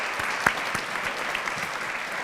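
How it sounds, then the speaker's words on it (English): Applause for a string quartet at a lecture event, a steady patter of clapping from an audience with one sharper clap standing out early, moderately loud and without voices. "Let's give them a round of applause."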